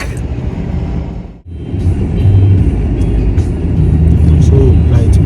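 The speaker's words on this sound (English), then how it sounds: "I'm going to do a little bit of driving because I need more practice" A car is driven during a driving lesson, giving a loud, close interior engine and road rumble that briefly dips before building back to a steady drone, with faint talk underneath.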